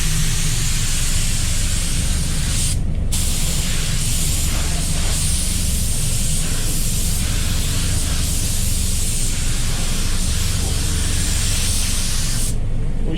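Walcom HVLP spray gun laying down wet-on-wet primer, a loud steady hiss of atomized spray running almost without break, with two brief pauses as the trigger is released.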